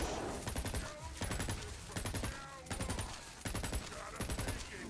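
Magic barrage spell firing in Tiny Tina's Wonderlands, a rapid series of loud repeated bursts in several volleys, with tonal magical shimmer and game sound effects layered over the top.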